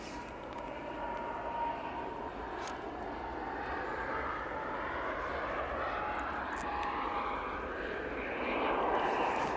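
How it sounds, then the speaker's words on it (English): An EasyJet airliner departs Manchester Airport bound for Belfast, a distant jet engine roar that holds steady and swells slightly near the end, heard across an open airfield. "So this EasyJet goes off to Belfast."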